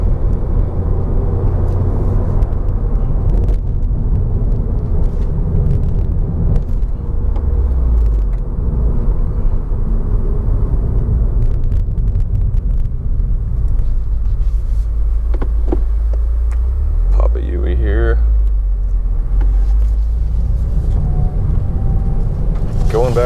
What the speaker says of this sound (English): It handles really well, just like a new car.